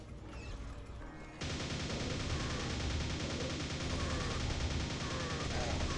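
A rocket launcher in the classic shooter Quake, a weapon that fires four rockets at once, booms into a dense, continuous roar of explosions and gunfire, loud and sustained after a brief quieter start.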